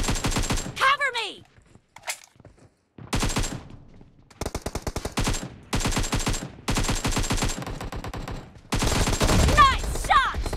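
An AKM rifle fires in a video game team deathmatch. Rapid full-auto bursts ring out loud and close, separated by short pauses, and a voice is heard among them.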